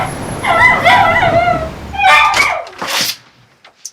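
A stressed dog barks and yips anxiously at close range in a home, with a run of high whining barks followed by a few sharper yelps and then quiet.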